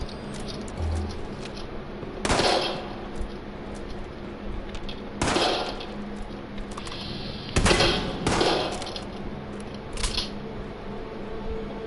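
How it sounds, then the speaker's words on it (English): Video game gunfire rings out in a match: several sharp, loud single shots spaced a few seconds apart, with two close together near the end, over a steady low background hum. "someone's shooting at me probably"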